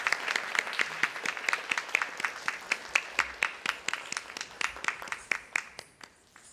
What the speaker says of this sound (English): Let us give a big round of applause to Srimati Janaki Murthy.